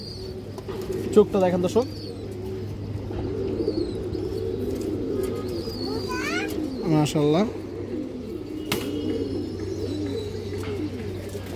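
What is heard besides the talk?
pigeons cooing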